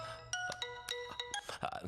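A phone ringtone plays a quick melodic pattern of bright, repeating electronic tones, fairly loud with no talking over it.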